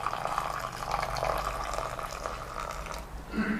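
Hot water pours in a steady, close stream while Thai jasmine green tea latte is prepared with ChaTraMue tea, a continuous splashing flow that shifts slightly near the end.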